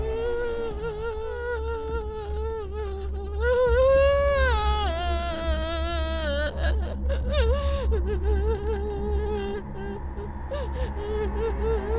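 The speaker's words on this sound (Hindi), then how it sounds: "रोने की आवाज तो सच में आ रही है।" Someone cries and wails in a haunted mansion in a horror film, a long quavering, rising and falling sob over a constant low rumble, with brief vocal fragments mixed in.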